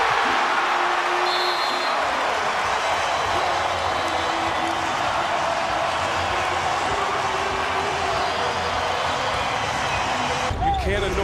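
Arena crowd noise at an NBA basketball game with the Oklahoma City Thunder, a steady, dense roar of spectators filling the space throughout, with squeaks and game sounds mixed in and a brief burst near the end.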